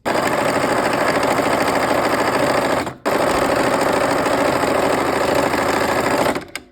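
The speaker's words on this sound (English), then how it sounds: "we will sew a 1/4 inch from that line on both sides" A sewing machine stitches a quarter-inch seam on quilt fabric for half square triangle units, a loud rapid steady whir that stops briefly and then runs again before cutting off.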